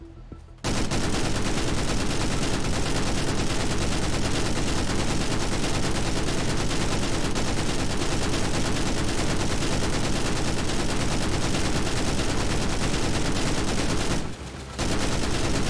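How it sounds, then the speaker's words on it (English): M60 machine gun in GTA RP firing in a long, relentless, loud burst of rapid shots, close and continuous for about fourteen seconds with a brief pause near the end before resuming. "sounds like an M60"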